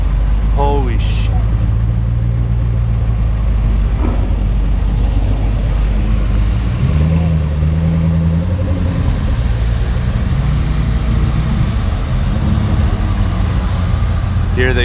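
A Lamborghini Aventador Roadster and other supercars roll past in a continuous loud, close engine rumble with a rising and falling pitch as the cars pass, with people talking over the traffic noise.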